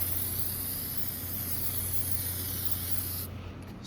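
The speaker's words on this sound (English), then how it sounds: "Silicone spray lubricant. Spray it on the back." Silicone spray lubricant from an aerosol can hisses in one steady, continuous burst onto a Ford F-150 front door glass channel seal, close and loud, then cuts off near the end.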